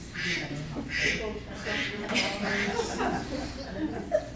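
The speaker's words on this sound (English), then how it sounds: "You're quacking your disapproval." A duck quacks in a few short nasal bursts, mixed with nearby human voices and soft chuckling.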